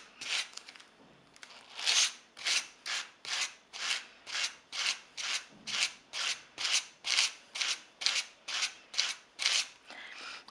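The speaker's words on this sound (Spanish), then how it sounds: "Voy peinando hacia más arriba hasta llegar aquí" Rhythmic brushing strokes of a comb pulled through wool to make doll hair wefts, about twenty steady, evenly spaced passes, close and fairly soft, with no voices.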